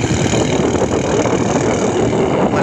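A small motorboat engine races steadily on the water off Bohol, giving a loud, continuous drone with a rough low rumble that holds level without pause.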